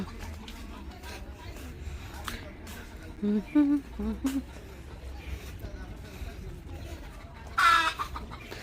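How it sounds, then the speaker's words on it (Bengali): Chickens cluck in a household yard, a few short close calls around the middle and a louder burst near the end, over a low steady background hum and faint murmur. "মুরগি আছে কক কক করতেছে"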